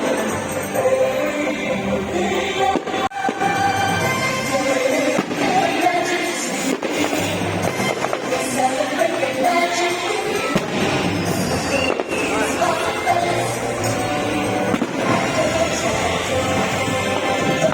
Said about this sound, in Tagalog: Panoorin natin yung fireworks!